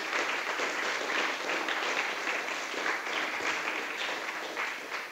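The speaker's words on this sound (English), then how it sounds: "A round of applause for trainers, please." Steady, fairly quiet applause from the audience at the Bitcoin Edge Dev++ 2018 developer event, thanking the trainers in a sustained wash of many hands clapping at a distance.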